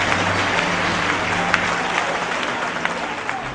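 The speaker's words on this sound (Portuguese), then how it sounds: "Os que podem, tomem o seu assento, aplaudindo a Jesus, porque Ele é bom, porque Ele merece." A church congregation applauds continuously, a dense, steady wash of clapping filling the room, with a voice speaking faintly beneath it.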